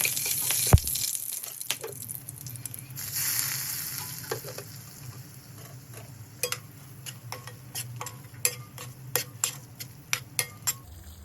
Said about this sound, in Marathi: आता आपण हे खडे मसाले आता फोडणीला घालूया